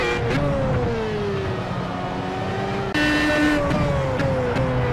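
A race car engine in Project CARS at Silverstone in the rain drones steadily with falling and rising pitch through gear changes, loud and close, with a sharp shift midway and no talking.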